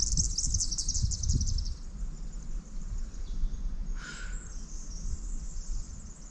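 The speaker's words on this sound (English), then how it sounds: "A lot of the bird calls you can hear are blue wrens" High, busy chatter of blue wrens and silvereyes in Barmah Forest on the Murray River fills the first couple of seconds, with a brief sharper call near the end, over a low rumbling background.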